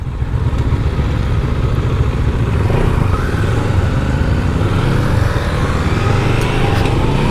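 A 2023 CFMOTO 700 CL-X motorcycle engine runs loud and close, its steady throaty drone rising gradually in pitch as the revs climb over several seconds, with no talk.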